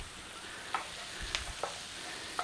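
Onions and garlic cooking gently in a pan, a faint soft sizzle with a few light clicks of a utensil stirring, quiet and close with no talk.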